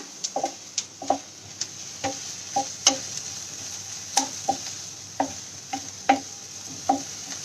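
Onion lightly sautéing in a pan, with a soft sizzle under repeated sharp taps and scrapes of a spoon stirring against the pan at an uneven rhythm, close by and with no talking.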